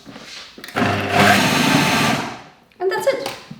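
A blender whizzes a thick vegan truffle mixture with cinnamon and allspice, a loud close whirring burst that strains and runs for over a second, stops, then pulses again briefly.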